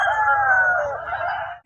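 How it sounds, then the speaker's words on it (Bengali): A rooster crows once, loud and close, at a cockfight, a drawn-out strained call lasting over a second before cutting off. "ওইদিকে মানে মুরগি লড়াই হচ্ছে"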